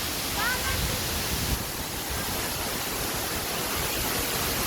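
Kapuzbaşı waterfall in Kayseri, Turkey, gives a steady, unbroken roar of falling water, a dense rushing wash that stays even and fairly loud throughout.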